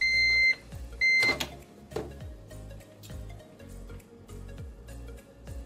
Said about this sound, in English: place in microwave and cook for 55 to 60 seconds